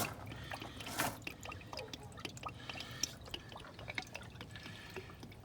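Engine oil drains from a Freightliner truck into a bucket, a steady liquid trickle with scattered drips and small splashes, moderately close and continuous under a low background rumble.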